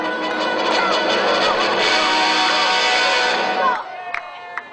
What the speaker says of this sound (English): I want a big cheer.